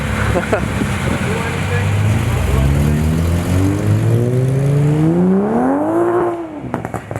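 A Ferrari 288 GTO drives away, its engine rising in pitch through the gears before fading, loud and close at first, with people talking over it.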